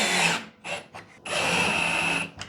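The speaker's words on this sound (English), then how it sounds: "Now you're gonna use a 1/2 inch socket to drive these." Power drill with a 1/2 inch socket driving screws while a DIY solar powerwall is built: a short whirring burst, a couple of brief pulses, then a longer steady run, close by.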